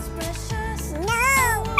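A cat meows once, a clear rising and falling cry close by, over a steady background of other noise.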